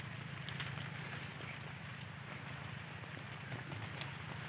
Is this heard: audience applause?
no